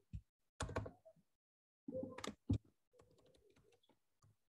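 Typing on a computer keyboard while writing Python exception-handling code: a few quiet, scattered bursts of keystrokes with short pauses between them, close by, with no talking.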